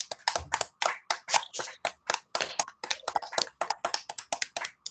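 Applause honouring Jesus at a religious gathering in a family home, with a small group clapping in bursts of quick, uneven claps at close range. No voices over it.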